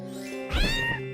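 Game cats in Grimm meow together in one short, loud, wailing cry, their yowls layered over a steady background music bed.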